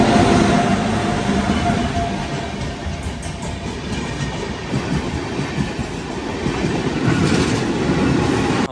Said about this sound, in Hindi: हमारे बगल से अभी गोरखपुर एक्सप्रेस क्रॉस किया